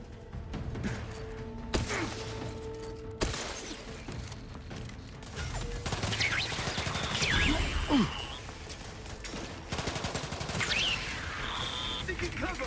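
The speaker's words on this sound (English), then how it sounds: "there are two people out of cover and you're shooting at me" Gunfire during a firefight in the video game The Outer Worlds 2, scattered sharp shots and bursts mixed with impacts and mechanical clatter over an ambient game background.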